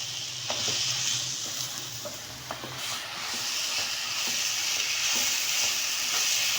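Okra frying in a pan with chopped onions and tomatoes, giving a steady close sizzle with occasional stirring scrapes and no talk.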